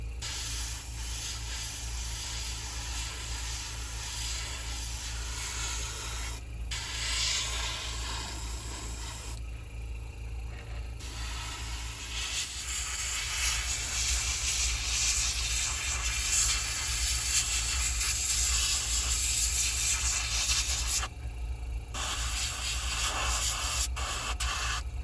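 A continuous loud hiss of spray paint being applied to an M422 Mighty Mite, broken by brief pauses between passes, over a steady low compressor hum.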